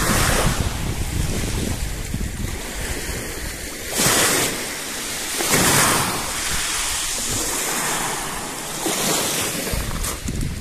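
Sea waves wash over a green pebble beach in Rafailovici, Montenegro, a steady broadband surf with periodic louder swells and rattling backwash, heard alone with wind buffeting the microphone.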